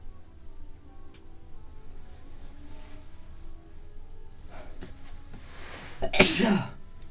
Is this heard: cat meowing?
no